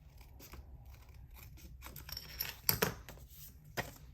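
Paper snips trimming overhanging designer paper from the edge of a handmade card, giving a few quiet, close metallic snips and crisp cuts spaced irregularly over soft background hiss, with no talking.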